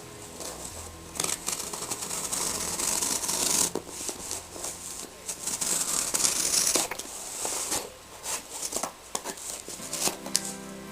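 Cardboard from a box is cut into 1-inch strips for a homemade cat scratcher, giving continuous rough rubbing and tearing scrapes up close with steady rhythmic strokes and brief pauses, no voices.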